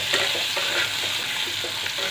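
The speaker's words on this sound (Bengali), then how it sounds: "এটা মিডিয়াম ফ্লেমে একটু ভাজবো।" Pointed gourd pieces with salt and turmeric fry in hot oil over a medium flame, giving a steady close sizzle broken by the scrape of stirring, with no voices.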